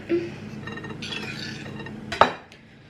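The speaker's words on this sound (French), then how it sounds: "Du coup ensuite j'incorpore ma banane avec mes œufs." Banana stirred into eggs in a bowl, heard as scraping and soft clinks of a utensil against the bowl, ending in a sharp knock of metal on the rim.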